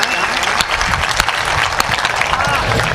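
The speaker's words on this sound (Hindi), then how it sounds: "एक बार सारी तालियां उसके नाम पर बज जाएं" An audience at a Hindi humorous poetry recital bursts into dense, sustained applause, loud and close, with clapping and crowd noise filling the whole moment.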